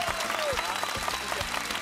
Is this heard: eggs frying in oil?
no